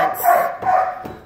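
A young tan female shelter dog, about 10 months old, barks in a kennel at a county animal shelter: two or three loud, close barks with short gaps, the last one softer.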